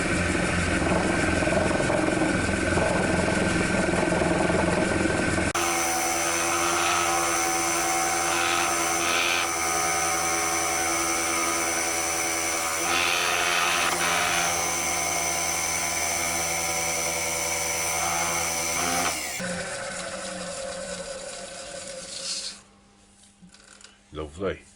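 A wood lathe runs with a steady, loud whirring hum that lifts in pitch as the speed is raised while a wax finish is rubbed on with kitchen towel, then winds down and quiets near the end.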